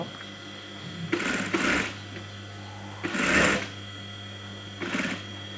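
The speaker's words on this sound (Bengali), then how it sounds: "তারপরে 1 ফিট দূর দিয়ে আরেকটি সেলাই করে দেব।" A sewing machine stitching a kameez collar band runs in three short bursts of rapid mechanical whirring, each about a second long, separated by quiet pauses over a steady background hum.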